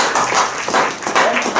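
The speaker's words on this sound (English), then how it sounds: "let's give them a round of applause" A lecture audience claps in a brief burst of applause, with dense, overlapping hand claps that are loud and close throughout.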